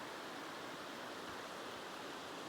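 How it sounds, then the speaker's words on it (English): The Hoh River in Olympic National Park flows beside a forest campsite, giving a steady, soft, even rush of water with no pauses and no voices. "Hoh River, again, has been a nice backdrop to the campsite"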